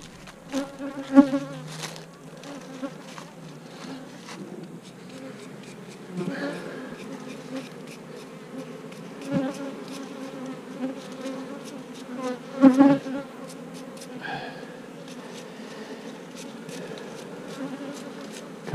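Many honey bees buzz continuously up close around a hive during a honey harvest, a droning hum that swells and fades as insects fly past, with occasional louder passes.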